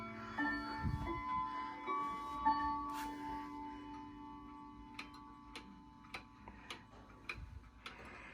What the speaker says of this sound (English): Nice and even tick-tock.